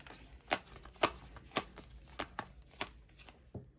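Tarot cards are drawn one at a time from a deck, giving soft papery snaps and swishes at irregular intervals of about half a second. The sounds are faint and close in a quiet room, with no talk.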